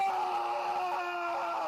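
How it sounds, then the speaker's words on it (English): A replay of an injured basketball player's scream on the court plays back, a sustained pained wail with a steady tonal cry lasting the whole moment. No pop stands out, and no one talks over it. "If you listen very carefully, you'll hear a pop and then a scream."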